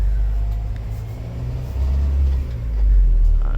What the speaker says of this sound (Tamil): இந்த சவுண்டு என்ஜின் சவுண்டு